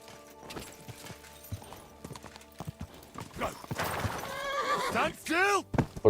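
A horse in Kingdom Come: Deliverance 2 gives several loud rising-and-falling whinnies, with clip-clopping hooves and scattered movement sounds around it, and a voice talks underneath at times.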